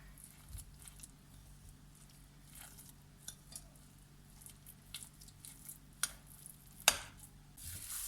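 A spoon stirring a lentil kofte mixture in a bowl, quiet moist squishing and soft scraping with a few sharper clinks near the end, close and faint, no voices.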